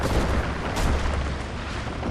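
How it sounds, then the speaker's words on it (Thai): Explosion in the video game Far Cry 4: a heavy, rumbling boom that stays loud and dense for about two seconds, with no voices. "เอ้ยระเบิดเพียบบอกแล้ว จัดหนักจัดเต็มแน่นอน"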